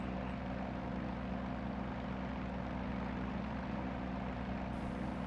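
A Yak-52 propeller aircraft in the DCS flight simulator drones steadily during takeoff, a constant, fairly faint engine and propeller hum with no voices.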